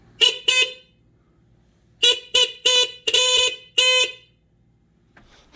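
Stock factory horn of a mini Jeep honked in a garage, two quick beeps, then a pause, then a burst of five short and longer blasts, loud, close and bright with a slightly nasal buzz.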